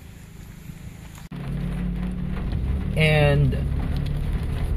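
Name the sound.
rain falling outside a housing subdivision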